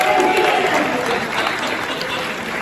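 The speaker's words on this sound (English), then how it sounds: "Give him a big round of applause." A crowd at a New York Comic Con Pokémon panel bursts into dense, loud applause, a short sustained wash of clapping from a packed room.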